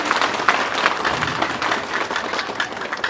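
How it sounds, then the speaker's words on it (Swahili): A large audience gives sustained, dense applause for President Hussein Ali Mwinyi at a college ceremony. The clapping is steady and full throughout, with no voices standing out. "tumpige makofi mengi sana."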